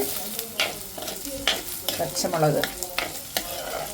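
Green chillies sautéing in a pan for fish curry, a steady close sizzle broken by sharp scraping stirs every second or so.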